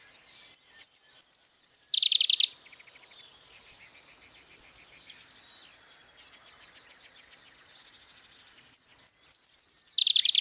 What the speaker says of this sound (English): Here is this bird's song.